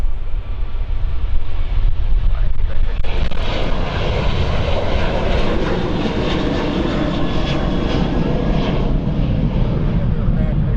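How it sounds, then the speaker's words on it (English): A UPS Boeing 767 airliner departs outbound from Stansted Airport, a loud broad engine roar that swells and holds steady for several seconds at moderate distance. "767 of UPS. Heading out by the looks of it."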